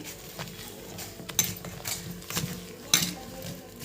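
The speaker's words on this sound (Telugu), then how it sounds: "ఇలా మొత్తం పిండిని కలిపేసుకోండి" Foxtail millet idli batter being mixed by hand in a bowl, with soft wet stirring and a couple of sharp clinks against the bowl, close and quiet with no talk.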